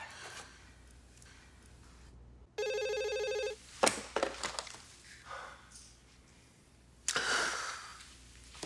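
A telephone rings in an office: one electronic ring burst sounds clearly, with breathing, a sigh and short rustles around it and no speech.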